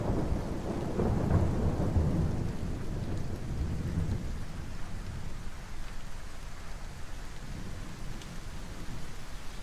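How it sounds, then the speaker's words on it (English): Torrential rain pours down in a dense, constant hiss while deep thunder rumbles heavily through the first half, then fades to a softer steady downpour, with no voices. "A little bit of torrential rain coming down."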